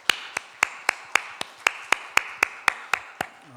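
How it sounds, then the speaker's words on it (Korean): A church congregation offers a round of thanks, heard here as a steady, evenly spaced run of sharp single claps, about a dozen in a little over three seconds, fairly close and alone without talk. "이들을 위해서 감사의 박수 한번 하겠습니다."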